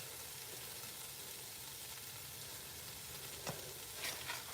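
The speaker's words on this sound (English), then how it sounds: "I'm going to go ahead and add our ground beef." Ground beef sizzles steadily in a frying pan with a soft, even hiss close by, and a few faint clinks of stirring near the end, with no one talking.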